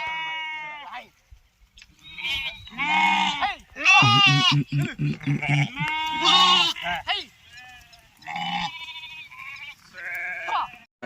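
A flock of sheep being herded bleats loudly and often, overlapping calls of varied pitch rising and falling close to the listener, with only brief gaps between cries.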